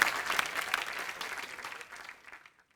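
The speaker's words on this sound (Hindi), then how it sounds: "यार एक बार सुगंधा के लिए भी जोरदार ताली हो जाए" Sustained applause from a studio audience on a comedy talk show fills the space with steady dense clapping, then fades out to quiet near the end.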